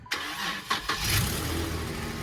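A project car's engine cranks in a few separate bursts with the clutch pressed, then catches and settles into a close, steady running hum.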